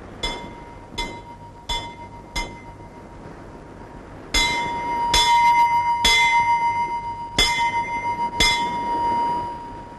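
A large bell is struck by hand again and again, giving about nine resonant clangs at a steady, unhurried pace. Each strike rings out loud and close with a long shimmering decay over low background noise. No voices are heard.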